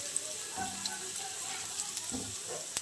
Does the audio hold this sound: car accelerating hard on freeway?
no